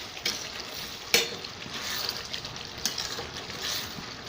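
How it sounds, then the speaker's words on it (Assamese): Jackfruit curry sizzles and fries in a pan while a utensil stirs it, with a steady soft frying hiss punctuated by a few sharp scraping clinks. "এয়া মই আকৌ লৰাই দিছোঁ অলপ।"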